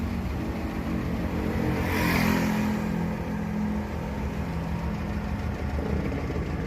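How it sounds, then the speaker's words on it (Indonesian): A T120 SS minibus engine idles steadily through its exhaust, a continuous low rumble close by with a slight swell in the middle and no talking. "Ini kondisi knalpot masih hidup nih."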